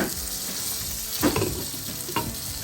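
Basmati rice and ingredients for a paneer khichdi fry in a pan and get a quick stir, giving a steady close sizzle with a couple of louder scraping strokes.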